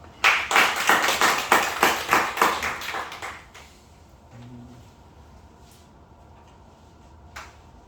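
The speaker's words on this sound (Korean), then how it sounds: "다시 한번 박수 해주세요" About a dozen crisp, evenly spaced claps ring out close and loud at a company gathering, then stop abruptly, leaving a quiet room with only faint stray noises.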